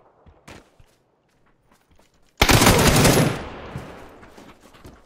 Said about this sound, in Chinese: 城里有人开枪